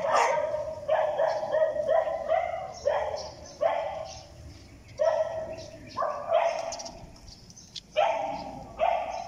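Several dogs bark in repeated bursts, guarding a protected area where they are fed, with loud close barks and yips recurring across the clip and a person talking intermittently beneath them.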